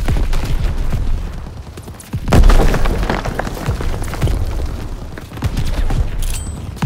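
Grenade blast in Call of Duty WWII, a loud booming burst near the middle followed by rumbling debris and scattered gunfire-like pops, with dense battle noise throughout and no talking.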